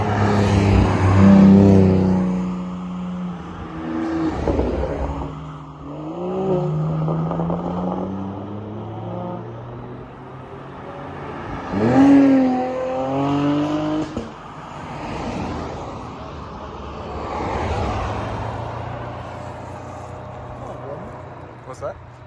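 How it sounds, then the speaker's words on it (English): Cars, including a Camaro, sweep past a roadside overlook by a dam on a mountain road, engines swelling and fading in several separate passes, with people chatting nearby. "See some cool cars go by."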